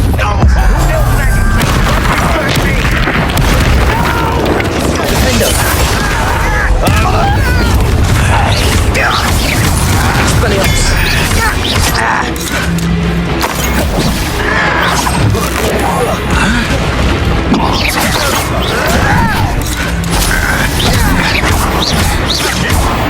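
Confringo spell explosions burst in Hogwarts Legacy, a dense, loud string of booms, crashes and whooshing blasts during a fight, nearly continuous throughout.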